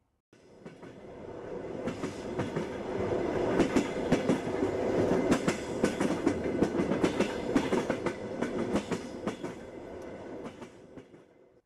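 A steam-era train rolls along the rails in 1904 Manchuria with a steady rumble and rhythmic clickety-clack, swelling in loudness, then easing off toward the end.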